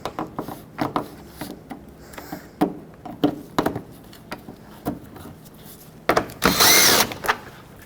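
A power tool works on the 10mm bolts and push clips of a 2007-2010 Chrysler Sebring during an A/C condenser replacement, with scattered clicks and clunks of handling, then a loud whirring burst near the end.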